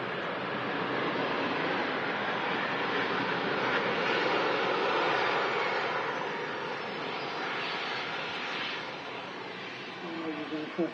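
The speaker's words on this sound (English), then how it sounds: "Ryanair arriving in from Lisbon." A Ryanair airliner arriving from Lisbon at Manchester Airport produces a broad, sustained jet roar that swells and holds steady, then eases slightly toward the end.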